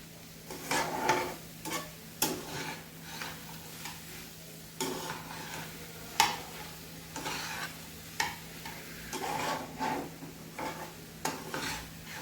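Chana dal and jaggery puran stirred in a pan over high heat, a spoon scraping and tapping in repeated strokes with a light sizzle underneath, close and moderately loud with no talking.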